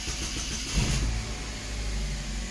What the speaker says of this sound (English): Cool, car started.